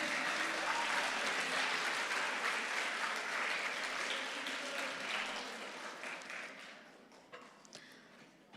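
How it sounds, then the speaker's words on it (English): School assembly crowd applauding the color guard, a steady wash of clapping that gradually tapers off into a few scattered claps and small knocks near the end. "So let's have a round of applause for our color guard."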